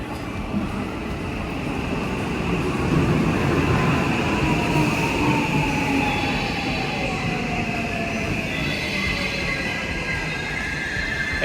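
Trains roll past continuously at a station in Japan, a steady loud rumble of wheels and carriages with rising and falling whine, sustained throughout with no speech.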